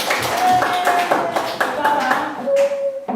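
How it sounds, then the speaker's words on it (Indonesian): Schoolchildren in a classroom clapping together, a brisk burst of nearby applause mixed with voices calling out. "Mari tepuk tangan buat kita semua."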